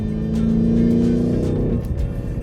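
A BMW Alpina XB7 with a ZF 8-speed automatic accelerates hard, its engine note rising for nearly two seconds before a quick upshift drops the pitch, loud and close with no talk.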